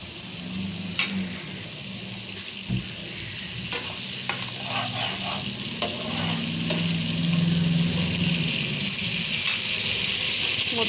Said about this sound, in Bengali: দেখুন মশলাটা কি সুন্দর ভাজা হচ্ছে।